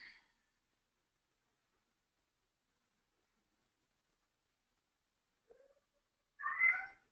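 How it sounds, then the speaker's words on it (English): A house cat meows in a quiet room: one short meow at the start, then a faint chirp and a clearer, louder meow near the end, with silence between. "That's my cat."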